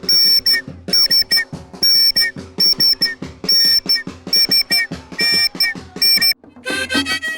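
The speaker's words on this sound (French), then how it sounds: "Ce sont des sifflets. C'est avec ces sifflets et ils faisaient la danse." Whistles sound for a traditional dance at a yam festival in Côte d'Ivoire, loud shrill blasts repeating in a steady rhythmic pattern over drum-like thumps, with a denser flurry at the end.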